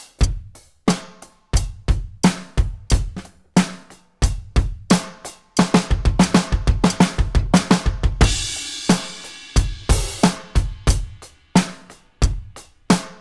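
A drum kit pattern moves into a fill that finishes on doubled kick drum hits and a bright, washing crash cymbal, a steady loud beat with rapid strokes partway through and no voices.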